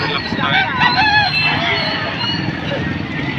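A rooster crows at a chicken sale in Padre Garcia, Batangas, one short, strained call rising near the start amid busy crowd chatter and market noise.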